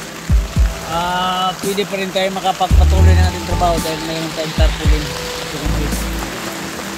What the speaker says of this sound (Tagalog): Pwedeng kusuga kayong ulan sa gawas